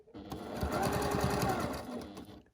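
A sewing machine stitches fabric for a storage pod project, a steady close run of rapid mechanical stitching that rises and then slows to a stop.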